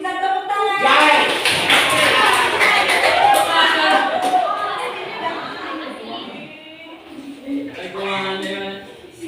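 Students clapping together in a classroom, a loud, dense round of applause that runs for several seconds under a teacher's voice and children's chatter, then tapers off as talk continues.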